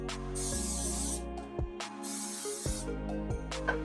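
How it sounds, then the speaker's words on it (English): Short bursts of coconut oil spray hiss from a pump can onto tortillas, two or three quick sprays with pauses between, close by over a low background hum. "So I just spray a little coconut oil on both sides here."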